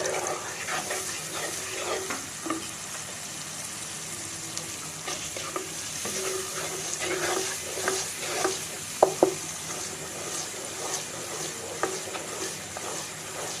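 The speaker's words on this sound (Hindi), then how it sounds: "अब मैं इसको अच्छी तरह भूनूंगी" Onion, garlic and spice masala with salt, red chilli powder, turmeric and a little water sizzles and is stirred in a pan, with steady frying hiss and occasional scraping clinks of the spoon, close up with no talking.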